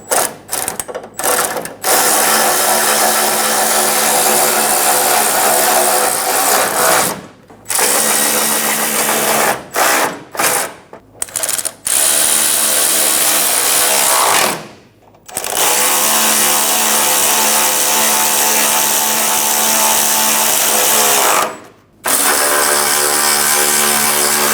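A power tool snugs down bolts on a fog light mount of a 2014-2018 Chevrolet Silverado 1500, running in loud sustained bursts with brief pauses between them and no talk.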